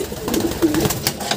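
Racing pigeons coo softly and close by at a loft being loaded for a 79 km race, a short murmuring call with no talk over it.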